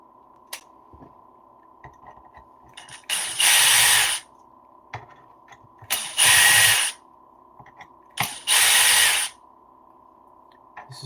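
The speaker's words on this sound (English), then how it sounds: "I should really be using a hand driver to break them loose." Screws being loosened on an Arrma RC car carbon chassis, heard as three short, fairly loud whirring driver bursts separated by quiet pauses, with faint small clicks in between and no talking.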